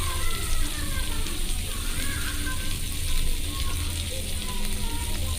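Chopped onions added to hot oil with crushed cardamom and cinnamon, a steady dense sizzle and crackle of frying throughout, close and loud, with faint clinks in the background.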